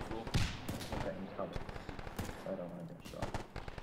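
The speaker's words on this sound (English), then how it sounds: "there's also a heavy machine gun somewhere." Heavy machine gun fire in a WW2 video game battle on Tarawa, rapid bursts of shots crackling through a busy mix of battlefield noise, with voices talking over it.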